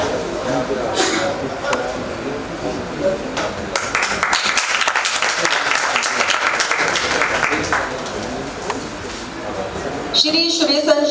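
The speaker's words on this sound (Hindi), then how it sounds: "जोरदार तालियां हो जाए श्री आनंद शर्मा जी के लिए" Applause from a seated audience welcoming a guest onto the stage at a Hindi-language college function, sustained clapping over steady crowd noise for several seconds, with a brief burst of voices near the end.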